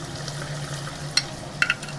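Salted onions fry in a pan with a low, steady sizzle, broken by a few sharp clicks of stirring near the end.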